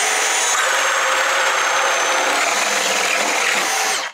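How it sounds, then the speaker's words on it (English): A DeWalt Flexvolt stud and joist drill whines steadily at high speed as a 2 9/16-inch bit bores through a wood stud, close and loud, running continuously for several seconds before stopping abruptly. "if we go up to our 2 9/16, the biggest bit that you're gonna potentially be drilling through on most studs"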